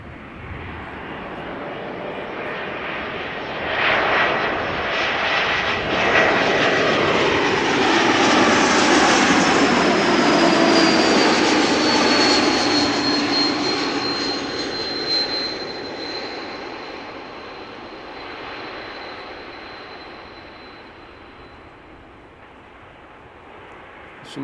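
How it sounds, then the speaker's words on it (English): ITA Airways Airbus A220-300 (Bombardier C-Series 300) arriving at Amsterdam Schiphol from Milan, a jet roar swelling as it nears and passes close by, with a distinct high whistling tone sliding downward, then fading away. "Bombardier C-Series 300, ITA Airways A220-300 arriving from Milan. Listen to the whistle that you hear when this airplane passes by."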